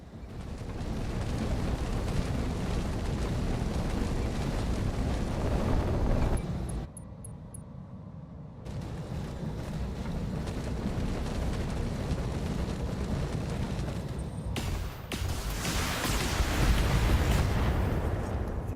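Heavy missile explosions in the BattleTech BTA mod, a dense, rumbling barrage of booms that drops out briefly in the middle before building again, loud and with no voices.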